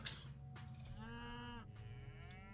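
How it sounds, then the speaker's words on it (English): A single drawn-out cattle moo from an Aurochs in a real-time strategy game rises and falls against steady game background sound, with no voices. "Oh man, look at all these cattle."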